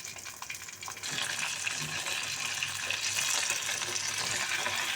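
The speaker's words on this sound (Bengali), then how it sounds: "আমার তেলটি গরম হয়ে গেছে, এবার আমি মাছ দিয়ে দিব।" Rohu fish pieces drop into hot oil, and a steady crackling sizzle jumps up after a quieter moment and keeps going, close and with no talking.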